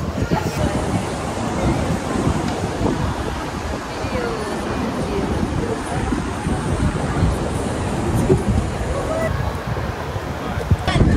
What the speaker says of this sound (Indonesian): Ini kebangetan sih anginnya